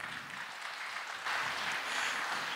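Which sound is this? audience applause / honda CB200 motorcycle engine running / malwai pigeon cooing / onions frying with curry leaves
audience applause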